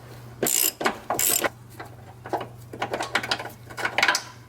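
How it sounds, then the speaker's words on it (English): A ratchet spins out the final bolt on a T850 transmission with a broken input shaft bearing, giving a run of quick clicking bursts, loud and close, over a steady low hum. "I'm gonna remove the bolt."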